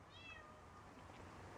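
A cat outdoors in icy weather gives one short, faint meow early on, over a quiet background hiss.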